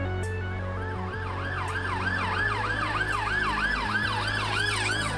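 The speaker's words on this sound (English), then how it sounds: "Les sirènes de police, d'ambulance, d'incendie ou d'alerte au séisme, autant de signaux sonores qui évoquent la peur, la mort ou la guerre." Emergency vehicle siren wailing in a continuous rising-and-falling electronic sweep, loud and fairly close, over a low steady engine rumble.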